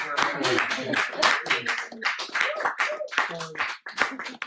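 A small audience at a talk in Totnes claps in irregular, distinct bursts. Individual hand claps sound close and separate rather than merging into a roar, and voices talk between them.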